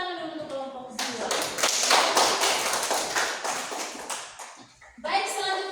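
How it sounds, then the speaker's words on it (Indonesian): A classroom of students applauding a presenting group, a burst of dense clapping lasting about four seconds, with a teacher talking just before and after. "Tepuk tangan dulu untuk kelompok 2"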